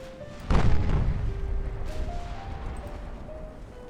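Ten-inch naval guns fire in Ultimate Admiral Dreadnoughts: one heavy boom lands near the start and rolls into a long, fading rumble. Faint tonal game sounds run underneath.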